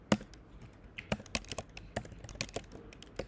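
Quiet, close keystrokes on a computer keyboard while code is written, an irregular patter of light taps in short bursts with brief pauses.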